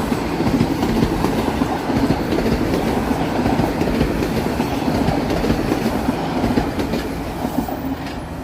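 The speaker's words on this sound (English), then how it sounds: "And here's a southbound subway." A southbound Toronto subway train rumbles past steadily for several seconds, loud and close, its wheels clattering rhythmically over the track with a continuous roar that eases slightly toward the end.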